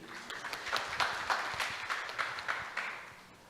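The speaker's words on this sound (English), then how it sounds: "Please, audience, give a round of applause for Prof. Budi." Audience at an academic conference claps in steady applause after a presentation, a moderately distant, even patter of many hands with no talking over it.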